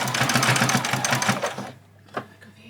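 A sewing machine runs in a short, fast burst as it back stitches an apron, then stops, followed by a brief click.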